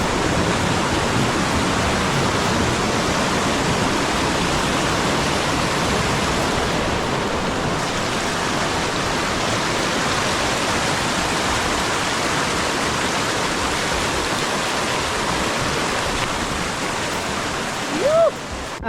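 A cold Himalayan mountain river in Spiti, on the trek toward Parang La, rushes steadily and loudly as a dense, unbroken roar of water close by for the whole stretch, with a brief extra splash near the end.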